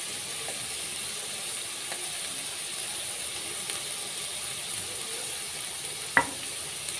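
Chopped vegetables and green chilli frying in a pan for fried rice, a steady soft sizzle throughout with faint stirring scrapes and one sharp clink near the end.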